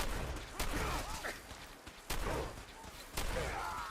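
Gunfire in Fallout 4 comes in three sharp loud cracks spaced about a second and a half apart, each trailing into game noise, whooshes and clatter.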